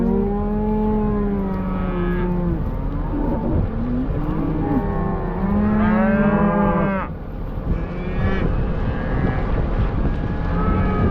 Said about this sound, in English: Let's go see if the cows are coming.